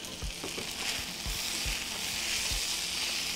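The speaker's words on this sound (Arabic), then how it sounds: "هقلب بس تقليباية" Fish fillet frying in a pan, stirred with a utensil: steady close sizzle throughout, punctuated by several soft knocks and scrapes of the stirring.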